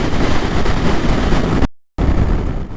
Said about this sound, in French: Et je peux le comprendre quand je vois ici déjà le vent qu'il y a.